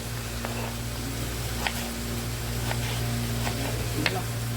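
Onions sautéing in a pan for mutton biryani, a faint steady sizzle with occasional clicks of stirring over a constant low background hum.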